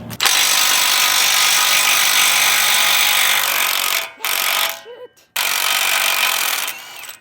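An impact wrench works a bolt on a Toyota Tacoma, running close and loud in long sustained bursts broken by a few short pauses near the end.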